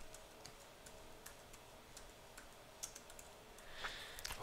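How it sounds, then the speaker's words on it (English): Quiet typing of verification text on a computer keyboard, with scattered light key clicks at an uneven pace over a low background hum. "So now I'm going to type the text in here."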